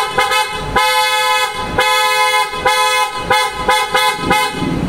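Two pairs of aftermarket PIAA Oto-style horns fitted to a Toyota Fortuner blaring loudly up close, several long brassy honks in rapid succession with short gaps between them.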